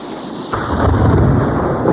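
A thunder sound effect from a vintage read-along book tape: a sudden loud crack followed by a heavy, sustained rumbling roll that fills the rest of the moment, with no voices.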